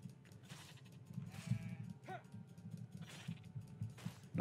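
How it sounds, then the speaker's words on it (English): A level 8 sheep in a video game bleating several times, faint and wavering, over a low background hum. "Level 8 sheep"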